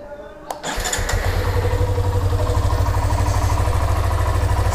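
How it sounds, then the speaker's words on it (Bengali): A Hero Xtreme 125R motorcycle cranks briefly and then catches, settling into a close, steady, loud idle with a fast even throb that carries on to the end. "বাইকটাকে স্টার্ট দেবো"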